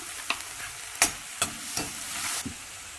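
Two chopped onions sautéing in a pan with low sizzling, broken by several sharp scrapes and clacks of a stirring utensil against the pan at irregular intervals, with no voices.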